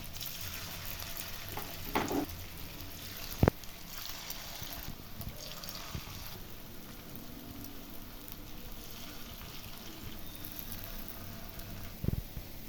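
Cabbage pakoras fry in hot oil with a steady, soft sizzle and crackle throughout, broken by a couple of sharp utensil clinks.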